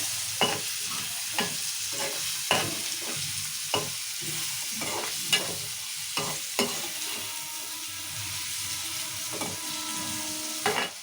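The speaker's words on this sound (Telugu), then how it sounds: "టమాటాలు కూడా మంచిగా నూనె ఇట్లా మగ్గించుకుందాము" Tomatoes, green chillies and curry leaves fry in oil with onions for a broad bean curry. A steady sizzle runs under repeated sharp taps of a spoon stirring against the pan, with no talking.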